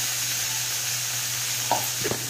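Soya chunks frying in a pressure cooker for veg biryani: a continuous close sizzle with a couple of brief stirring scrapes near the end, no voices.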